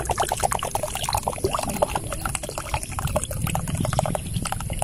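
Drinking water poured into a container at a casual home meal, with a continuous trickling, splashing flow that runs for several seconds at close range.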